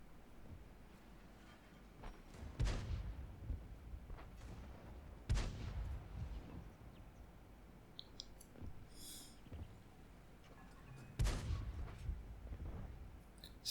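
B-C 155 55 self-propelled artillery gun firing in a tank video game, three heavy booming shots spaced several seconds apart over a low rumbling background, with faint mechanical clicks between.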